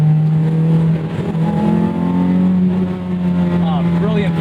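A 2001 Toyota MR2 Spyder with a swapped 2ZZ engine pulling hard, a loud steady engine drone close to the cabin that dips and rises with throttle, while a person talks over it.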